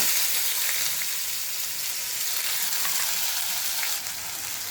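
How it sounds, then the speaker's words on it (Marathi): Onion and cumin seeds sauté over low heat in a pan, giving a steady, even sizzle that holds close and constant throughout with only faint stirring ticks and no talking. "व्यवस्थित असा परतून घ्यायचा आहे गुलाबीसर कांदा"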